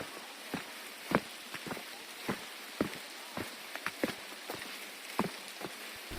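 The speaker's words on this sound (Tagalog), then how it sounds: "medyo malalaki na ang patak ng ulan" Large raindrops falling on a hiking trail on the Mt. Pinatubo crater hike, an irregular patter of distinct close drops hitting the ground over a soft steady hiss.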